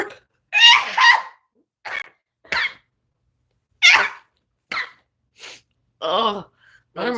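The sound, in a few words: sneezing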